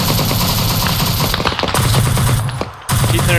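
Short bursts of automatic gunfire in Arma 3 sound loud and close as rapid rounds run together, with a brief drop-off just before the firing resumes.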